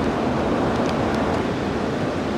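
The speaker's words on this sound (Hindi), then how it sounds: "ये इसका पानी और दरिया की जो आवाज़ है वो बहुत ही ज़्यादा खूबसूरत है" A river rushes along a mountain road, a dense, steady roar of flowing water, loud and close with no pauses.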